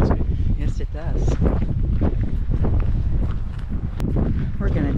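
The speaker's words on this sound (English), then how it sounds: "Scottish weather. Cool, windy." Steady wind roars across the microphone throughout on the Scottish coast near Glenelg, loud and constant, with voices faintly mixed in.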